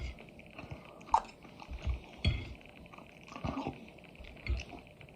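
Someone eating chicken during a mukbang, with close, quiet chewing and biting sounds and a few soft crunchy bites spaced through, no talking.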